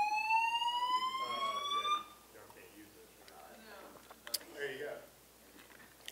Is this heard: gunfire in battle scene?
no